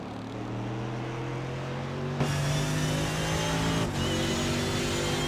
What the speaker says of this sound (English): The sound of a beautiful Mercedes, my favorite GT3.